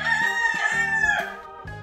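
A six-month-old chicken crows up close, one sustained cock-a-doodle call with no voices.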